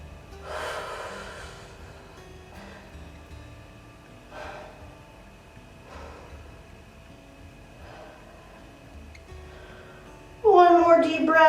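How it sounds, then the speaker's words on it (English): Slow, deep breaths drawn in and let out during a cool-down in child's pose after an upper-body workout for runners, several soft airy rushes spaced a couple of seconds apart, close and quiet, followed by a brief bright ringing tone at the end. "Big deep inhale. Big deep exhale."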